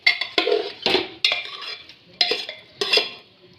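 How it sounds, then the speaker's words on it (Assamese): A spoon stirs local chicken pieces in a pan, about eight sharp scraping clinks in an uneven rhythm with a soft frying hiss between them, close and alone without speech. "এইখিনি লৰাই দিম, লৰাই এইখিনি ভাজি থাকিম।"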